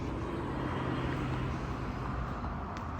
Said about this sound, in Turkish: Elektrikli araba gidiyor.